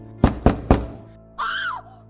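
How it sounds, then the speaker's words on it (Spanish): Three sharp knocks on a dressing room door, evenly spaced and close, followed by a brief high voice cry after a pause. "En ese momento tocaron a la puerta y ella pegó un grito."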